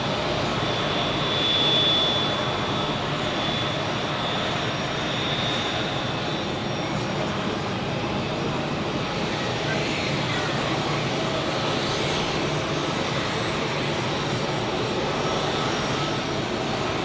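Swiss Airbus A321neo jet taxiing at Zurich Airport, a steady, loud engine roar and whine that holds throughout with only slight swells.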